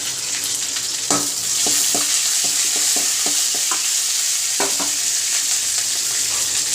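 Black urad dal, dried red chillies and curry leaves crackle in hot oil for a chutney, a bright steady sizzle broken by a run of sharp spoon taps and stirring clicks.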